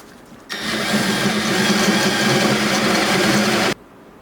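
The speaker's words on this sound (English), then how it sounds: "Just using a step bit here, and I made a little mark on here so I don't go too deep" A step drill bit bores a hole during ECU installation work on a supercharged E36 BMW M3: a steady, loud, whirring drill burst of about three seconds that starts and stops abruptly, with no talk.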